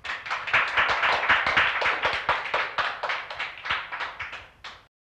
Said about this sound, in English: let's hear some applause for our courageous scarf knitter